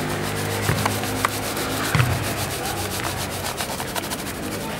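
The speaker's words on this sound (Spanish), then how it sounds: "La semilla de zanahoria es muy pequeña y tarda mucho en germinar. Entonces, para saber por dónde la estamos echando, la mezclo con un poco de arena" Gritty rubbing and scraping of tiny carrot seed mixed with sand by hand in an urban vegetable garden, close and continuous with a few louder scrapes, no talk.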